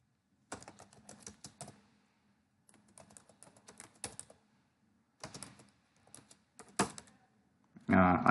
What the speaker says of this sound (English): I am typing here C++